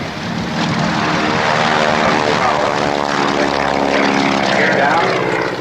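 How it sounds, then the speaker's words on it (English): Propeller airplane landing at the Red Deer International Airshow in 1989, its engine droning loud and steady throughout with a rough, throbbing tone, while a voice talks over it. "Gear down, rolling the airplane in the dirty environment."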